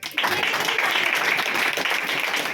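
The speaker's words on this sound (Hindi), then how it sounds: "ताली बजाएंगे" An audience at a Hindi church gathering breaks into clapping, a bright, even patter of many hands that starts abruptly and holds steady for a couple of seconds.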